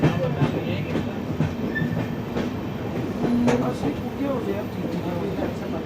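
The Ajmer–Ernakulam Marusagar Express rolls along rails through the Kota division, a continuous dense rumble with rhythmic clickety-clack under a voice talking.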